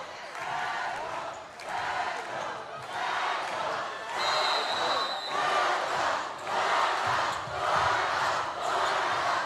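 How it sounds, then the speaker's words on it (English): Crowd at a high school boys basketball game cheering and roaring in repeated swelling waves, loud and continuous, with ball bounces and voices mixed in. "the crowd on both sides of the floor They're getting into it, showing their school spirit"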